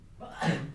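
A single short sneeze bursts out during a math lesson on graphing the secant function, brief and moderately close.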